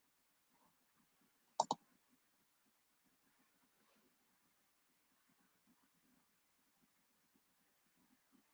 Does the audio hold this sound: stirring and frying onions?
no